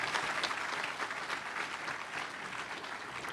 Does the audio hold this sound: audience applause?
yes